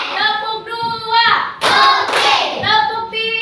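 Children in a classroom clap along in a rhythmic focus-clap routine, with loud bursts of hand claps standing out between stretches of sung, chanted group voices.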